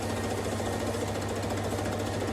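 A sewing machine stitches dress fabric for a multi-way skirt, running in one steady, dense mechanical whir at close range for the whole stretch, with no pauses and no voices.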